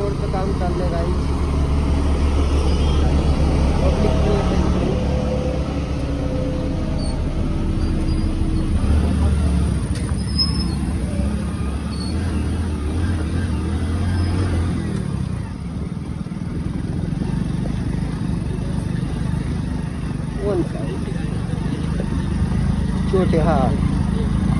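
A two-wheeler rides along a ghat road under construction, its engine a steady low drone with road rumble throughout, while people talk over it.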